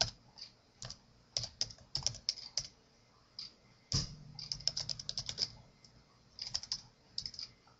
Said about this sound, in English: right in here, you just type in the path to the Document Class.